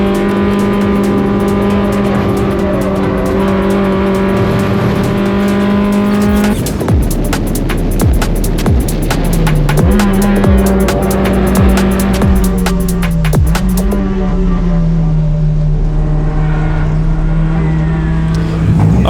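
A refreshed race car lapping Bend Motorsport Park, its engine droning steadily, then revving hard through repeated upshifts and downshifts with rapid ignition crackle, loud and close throughout.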